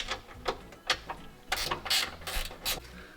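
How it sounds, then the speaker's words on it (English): Quick clicking ratchet wrench tightening bolts on a wood truck, heard as close, uneven bursts of short metallic clicks with brief pauses between strokes, no talking. "Ratchet wrench."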